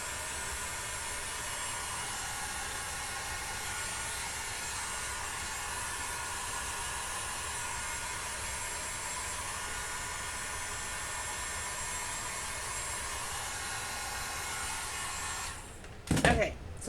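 A handheld hair dryer blows on Aleene's Tack It Over adhesive spread on a Cricut cutting mat. A steady, loud whooshing hiss runs for about sixteen seconds, then cuts off with a brief thump.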